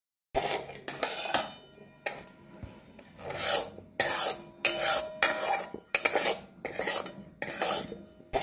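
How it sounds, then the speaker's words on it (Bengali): A metal spatula scrapes and clinks in a kadai as lote fish are stirred into onions and spices, with repeated bursts of scraping and rubbing separated by short pauses. "মাছগুলোকে কড়াইতে দেওয়ার পর খুব ভালো করে কড়াইতে এটা মিক্স করে নিতে হবে"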